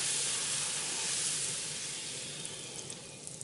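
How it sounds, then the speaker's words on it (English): Puri bread frying in hot oil, a steady, loud, close hissing sizzle that eases slightly toward the end, with a few small crackles and no voice. "I'm going to fry the another puri."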